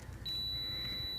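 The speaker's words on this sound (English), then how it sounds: "If this is touching where it should be, you'll hear a beep" A multimeter set to continuity gives a single sustained high electronic beep that starts just after a short pause and holds steadily to the end, close and clear, while a starter is tested during a Toyota Matrix repair.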